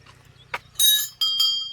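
Bright metallic temple bell strikes ring out at a hilltop temple, two clear rings with a lingering shimmering tone, after a faint earlier tap, over low background hum.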